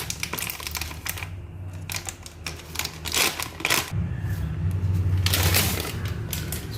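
Granules of MAP fertilizer poured into a container while mixing hydroponic AB mix nutrients for melons, giving a dense, gritty rattling and rustling in bursts, close by and without talk.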